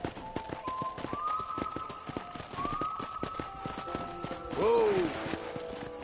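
Horse hooves thudding in a quick, regular rhythm while riding, under a tonal musical line, with a short shout near the middle.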